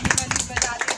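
A small group claps for a birthday, a rapid burst of sharp, close handclaps layered with voices talking over them.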